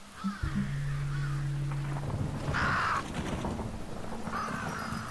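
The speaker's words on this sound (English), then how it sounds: "It's the Resident Evil crows." Crows cawing in a samurai video game, several harsh caws spaced through the clip over a rumbling stormy ambience with a low sustained tone.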